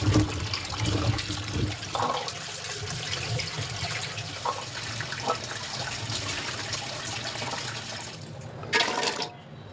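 Olives being washed in water in a home kitchen: continuous running and splashing water with scattered louder sloshes and a brief burst near the end, close and without speech.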